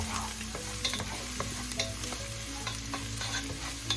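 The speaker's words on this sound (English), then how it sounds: "Gonna make sure our onions are soft enough, softened well." Onions sauté in a pan for a pancit palabok sauce. A steady close sizzle runs throughout, broken by frequent clinks and scrapes of a spoon stirring, with no voices.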